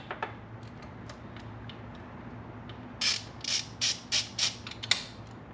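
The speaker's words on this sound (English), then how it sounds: "I'm gonna loosen the camshaft angle sensor so I can adjust that if I need to." Mechanical ratcheting clicks from a tool loosening the camshaft angle sensor on a freshly rebuilt Mazda RX-7 FC 13B rotary engine, a run of about six short, crisp clicks close by after faint scattered ticks, no talking.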